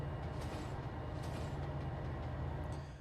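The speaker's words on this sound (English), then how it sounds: "the second AI train today should be coming up soon" AI train in Trainz Simulator 2 on Cajon Pass, a loud, steady low rumble of rolling rail cars and engine, continuous and close with no talk.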